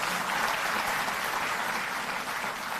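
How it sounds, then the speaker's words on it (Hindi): An audience at a ceremony honouring Delhi Jal Board workers gives continuous, full applause, a steady roar of many hands clapping at once with no gaps throughout. "तालियों में कंजूसी नहीं"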